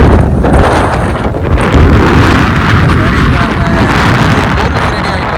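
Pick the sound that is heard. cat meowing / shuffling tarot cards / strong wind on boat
strong wind on boat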